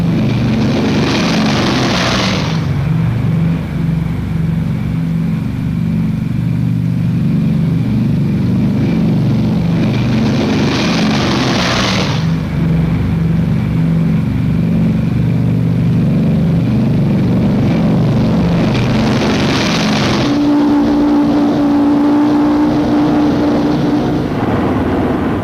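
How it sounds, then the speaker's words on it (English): B-29 bombers take off one after another, each with a heavy, steady droning engine roar that swells every ten seconds or so as a plane passes, ending in a sustained tonal hum. "B-29 takeoffs are a tough sweat."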